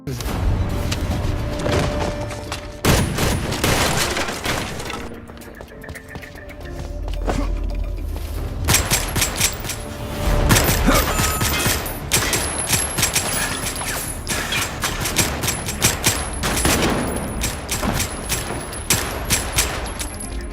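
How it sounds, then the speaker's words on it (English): Rapid gunfire from a film shootout in a diamond-heist crime story, dense bursts of shots and booming impacts crackling loudly and almost continuously through the scene, with a brief lull before the barrage resumes. "Shortly after, they found themselves in a shootout."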